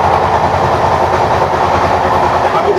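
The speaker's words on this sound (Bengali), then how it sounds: "আমি শতাব্দী এক্সপ্রেসে দাঁড়িয়ে রয়েছি, ট্রেনের প্রচন্ড আওয়াজ" A Shatabdi Express (12278 Puri–Howrah) running at speed, heard from inside where a passenger stands: a loud, steady rumble with a rhythmic clickety-clack of wheels over rail joints throughout.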